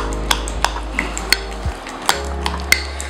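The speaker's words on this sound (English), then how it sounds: "Meantime, I'm gonna stir this one together" A spoon stirring a thick homemade hair mask of banana, yogurt and coconut oil in a bowl, soft scraping with light regular clinks against the bowl, close up with nothing else over it.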